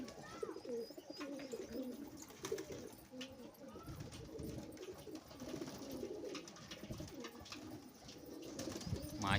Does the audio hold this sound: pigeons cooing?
yes